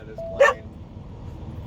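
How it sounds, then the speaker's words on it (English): A single short dog bark rings out over a steady low background rumble, brief and fairly close, with nothing following it. "and Max is over there barking like mad"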